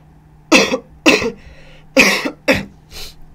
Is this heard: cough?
yes